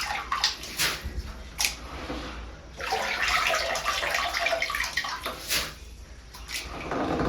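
Finger millet grain being washed in water, with close splashing, sloshing and swishing bursts that come and go in uneven waves throughout.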